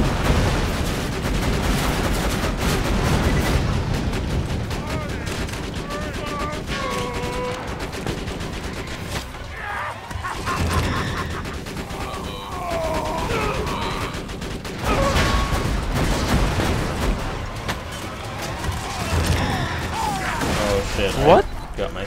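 A rocket-firing gun in the shooter Borderlands 2 fires again and again amid a busy battle, with rattling shots, blasts and mechanical clanks mixed among other game effects and voices.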